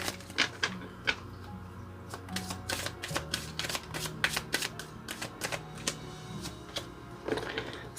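A Numinous Astro tarot deck is shuffled by hand, a rapid run of crisp card slaps and riffles in an irregular rhythm, close and fairly quiet.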